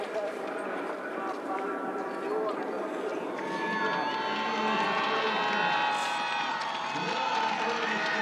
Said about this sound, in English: that is why the crowd are shouting